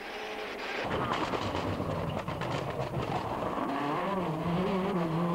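A Subaru rally car races along a West Cork Rally stage, its engine note rising and shifting through gears with a loud, close, sustained roar and rattling tyre and gravel noise underneath.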